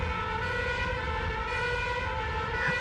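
An ambulance siren in an audiobook, a steady, sustained wailing tone that stays loud and continuous with no speech over it.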